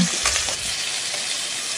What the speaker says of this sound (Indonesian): Kemudian kita akan goreng ikannya.